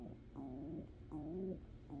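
Soft, close town pigeon cooing, a few low warbling calls rising and falling in quick succession with nothing else around.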